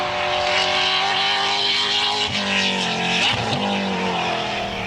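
A Holden race car drives hard with a loud, steady engine roar close by, broken by tire squeal and skidding in the middle, no voices.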